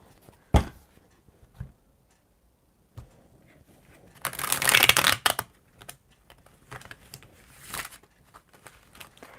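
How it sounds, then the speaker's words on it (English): A brand-new, stiff tarot deck is shuffled by hand in quiet bursts: a few sharp taps and flicks, then a longer rustling riffle midway, followed by softer scattered card clicks. "these cards are so new. They're so hard to shuffle."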